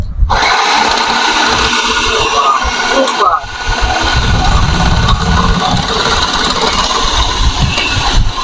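A Miyako food processor motor slicing snake gourd runs loud and steady with a whirring, grinding drone, briefly dipping midway before carrying on, while a voice talks over it.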